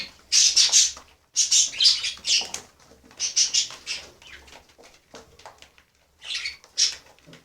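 Pigeons shuffling and flapping at a feeding spot: clustered bursts of wingbeats and fluttering with soft scratchy movement, close by, coming in uneven groups separated by short quiet gaps.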